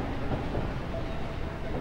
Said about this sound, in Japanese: そろそろ電車が来るで